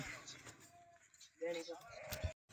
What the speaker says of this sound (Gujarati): આ છે બિચાર બકરા